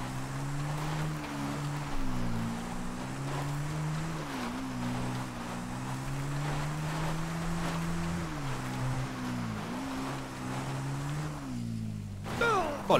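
A Sanchez dirt bike from GTA Vice City, remastered with GTA 5 graphics, runs with a sustained engine drone that rises and falls in pitch as it revs, loud and continuous, with a brief burst near the end.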